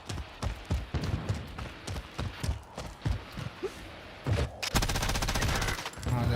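Rapid bursts of Warzone gunfire crack out in a loose, repeated rhythm with heavy recoil. A denser sustained volley near the end is loud and close, with no talk over it.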